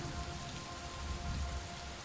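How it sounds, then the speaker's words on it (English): Rain in the video game Superliminal, a steady, dense patter of falling rain with a low rumble beneath, even and continuous throughout. "Ooh, rain. I love rain."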